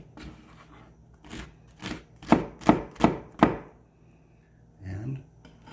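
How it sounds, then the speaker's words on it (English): Knife chopping celery finely on a cutting board for fried rice: about eight crisp, evenly spaced chops, close and clear, followed by a short soft rustle as the pieces are moved. "We cut up our celery nice and fine so it cooks."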